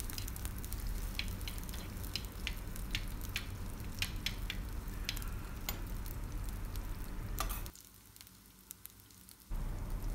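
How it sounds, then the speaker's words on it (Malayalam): Chopped onion and garlic sauté in oil in a pan for a Kerala fish mango curry, making a steady sizzle scattered with small pops and ticks. Near the end the sizzle briefly drops away, then comes back. "അരമുറി സവാള ചെറുതായിട്ട് അരിഞ്ഞത്, അതും കൂടി ഇട്ട് നന്നായിട്ടൊന്ന് മൂപ്പിച്ചെടുക്കാം"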